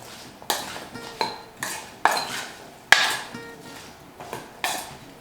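A utensil clinks and scrapes against a bowl in a series of irregular knocks as seasoned potatoes are tossed and mixed, close by, with no voices.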